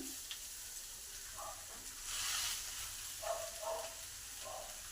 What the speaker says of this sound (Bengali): এবারে মাছটা দিয়ে দিই।